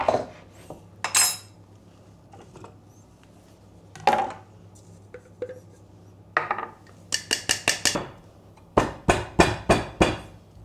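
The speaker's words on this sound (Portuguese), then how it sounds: "Vou cortar na faca mesmo." Kitchen knife chopping firm food on a cutting board while preparing a caprese tart, a run of sharp taps and knocks in spaced clusters and then a quick rhythmic series, close and clear with no talking.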